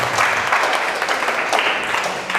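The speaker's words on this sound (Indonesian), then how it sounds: "tepuk tangan dong buat 5 ini." Dense audience applause at a talk on effective communication, a steady wash of many hands clapping at once, loud and continuous with faint voices beneath.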